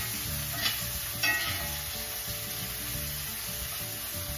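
Chopped onion sizzles steadily in a frying pan over medium heat while making gorditas de rajas, a constant soft crackle with a couple of brief stirring scrapes near the start.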